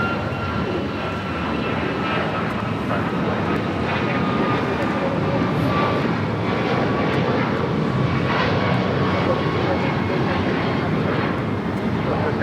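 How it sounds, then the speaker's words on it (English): A China Airlines Boeing 777 freighter, a cargo flight from Taipei, roars steadily and loudly at LAX, a broad jet engine rush with a faint whining tone that holds for the whole stretch. "China Airlines cargo, flight 5282 coming up from Taipei, the 777 freighter going all the way to Lima"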